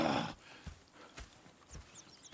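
Horses in the Red Dead Redemption 2 video game: a few soft hoof clops and faint snorts at a moderate distance after a brief louder burst at the start.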